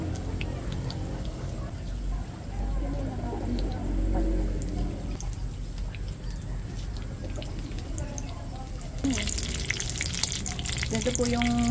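Steady sizzling and crackling of vegetable spring rolls with mung bean sprouts frying in hot oil continues throughout, with a brief clatter and brighter hiss near the end.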